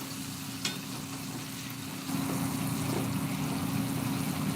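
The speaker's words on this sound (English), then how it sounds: "Alright, the yams are still frying." Yams fry quietly in oil, a soft continuous sizzle over a low steady hum, growing slightly louder partway through.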